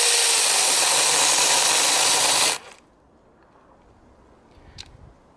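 A cordless 18V Li-ion 6-inch mini chainsaw cuts through wood, a loud steady buzzing whine that stops abruptly partway through, leaving quiet room noise and a faint click near the end.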